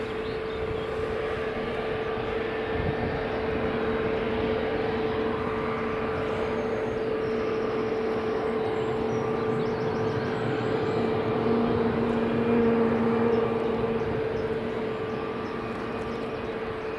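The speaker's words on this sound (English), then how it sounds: "Jet2 737-800 just lined up." Jet2 Boeing 737-800 jet on the runway at Edinburgh Airport, a steady broadband engine roar with a sustained tonal hum, distant and continuous with a slight swell near the end, no talking.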